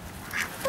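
A duck gives a short, quick quack outdoors, a brief single call.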